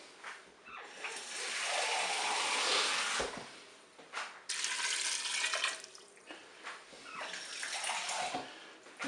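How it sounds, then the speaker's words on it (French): Water pours from a container into a Cookeo pot over frozen white beans, a close, splashy gush that runs for a few seconds, breaks off, then resumes in shorter, uneven pours. "Je sale, je poivre et je vais recouvrir d'eau."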